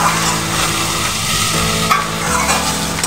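Potatoes being sautéed with spices and Kashmiri chili powder in a kadai for a pomfret curry, a loud, close, continuous sizzle with scraping stirs and no talk.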